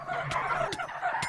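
Chickens clucking in Minecraft, a few short blocky squawks spaced across a moment amid steady game noise, with no speech.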